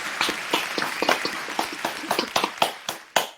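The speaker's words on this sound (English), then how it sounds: "Studio audience, please give both teams a round of applause." A small studio audience at a game show claps in uneven, scattered bursts, with sharp individual hand claps popping out and a final loud clap before it stops.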